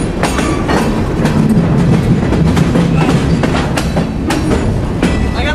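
Train running on rails, heard close and loud from on board, with a continuous rumble and rhythmic clickety-clack of the wheels throughout and no speech.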